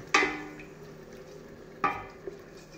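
Onions and tomatoes frying in oil in a pot for a vegetable soup are stirred with a utensil, giving two distinct scraping clinks against the pot over a low steady sizzle, with no talking.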